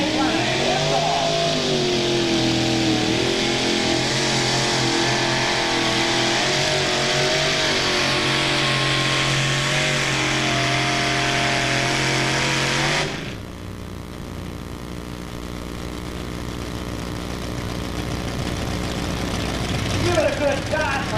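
Naturally aspirated Chrysler-engined pulling tractor making a loud, sustained full-throttle run at a 1994 NTPA tractor pull in Imlay City, Michigan, the roar cutting off abruptly near the end and leaving a lower idle and crowd noise.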